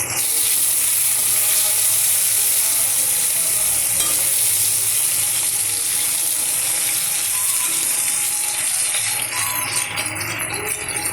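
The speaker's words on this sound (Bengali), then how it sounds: "কালো জিরেটা একটু নাড়িয়ে নিলাম, দিয়ে দিলাম আলু।" Potatoes fry with black cumin seeds in a pan, a dense, steady hiss of sizzling oil held close and loud throughout, with faint stirring movement underneath.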